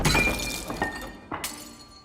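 Glass is smashed in a scene from the 1980 film The Shining, a sharp shattering crash followed by a second breaking hit and tinkling shards, fairly close and without speech.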